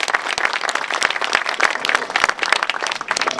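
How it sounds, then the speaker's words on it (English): An audience at a hospital emergency room groundbreaking applauds politely, with loud, close, uneven clapping from a modest crowd that continues throughout with no speech over it. "That's a polite applause."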